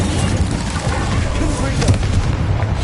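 Incendio fire spell cast in Hogwarts Legacy during a dragon rescue battle, a dense continuous roar of booming blasts and crackling impacts layered with game noise and overlapping voices throughout.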